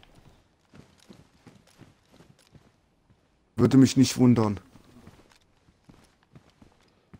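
Player character's own footsteps in the survival game DayZ, a steady run of soft, quiet steps throughout, briefly covered by a burst of loud talking in the middle.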